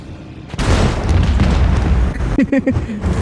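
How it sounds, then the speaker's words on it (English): An explosion in the video game Warhammer 40,000: Rogue Trader, a loud, deep booming blast that rumbles on for a couple of seconds, then gives way to a few short clipped sounds near the end. "It doesn't have to hit them. It just has to blow up."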